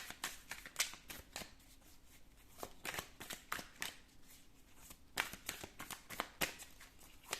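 Playing cards are shuffled for a card draw in a love-themed reading: a rapid run of crisp riffling and slapping bursts, with quicker flurries in between, close up and clear, no voice over them.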